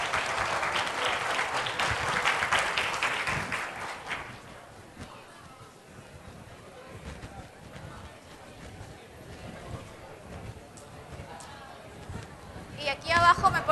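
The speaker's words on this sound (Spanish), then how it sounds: "Un aplauso para todos." Applause from a seminar audience, dense and fairly loud for the first four seconds, then fading to scattered claps and room murmur, with a brief burst of clapping near the end.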